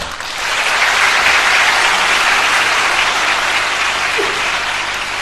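An audience at a literary talk breaks into loud, sustained applause that swells quickly and holds steady for several seconds, a dense wash of clapping from a large crowd.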